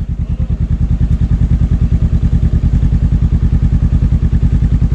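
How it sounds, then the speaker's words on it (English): A loud, close engine, likely a motorcycle, idles with a rapid, even thumping pulse throughout, without clear revving surges. "You want to rev it?"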